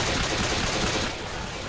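Pistols fire in Left 4 Dead 2, a fast run of sharp cracks blurring into a continuous loud clatter, with no talk in this moment.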